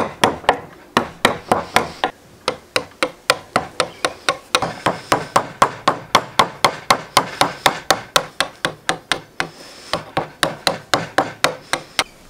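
Chisel struck repeatedly by a mallet while cutting a wooden half lap joint, a steady run of sharp knocks roughly every third of a second, loud and close, with a brief pause near the middle.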